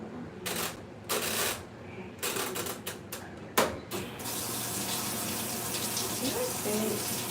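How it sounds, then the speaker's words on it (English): A tap is left running before use, a steady rushing stream that settles into continuous flow after several brief bursts and clatters, close and moderately loud. "I like my water to run first."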